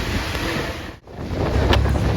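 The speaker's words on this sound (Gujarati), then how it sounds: "પવન આવે બારીએથી અને એક નંબર મજા આવે છે." Wind rushes in through an open bus window on a rainy day around Keshod, a continuous loud buffeting roar against the microphone that dips for a moment and then surges back.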